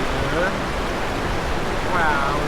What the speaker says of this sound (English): made it to this waterfall area, but we have to cross this stream.